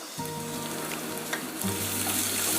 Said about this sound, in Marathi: मसाले तेलात पुन्हा परतून घेऊ